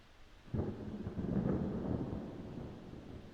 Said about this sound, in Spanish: El trueno retumbaba a través de las paredes.